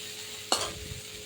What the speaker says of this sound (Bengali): এবার বারবার নাড়াচাড়া করতে হবে।